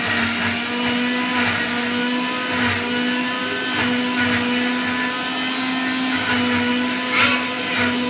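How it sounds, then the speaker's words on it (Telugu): A mixer grinder runs steadily at high speed blending curry leaves with water, a loud continuous whirring hum with slight fluctuations as the contents churn, no voices. "ఆకంతా మిక్స్ అయ్యే వరకు మిక్సీ పట్టాలి."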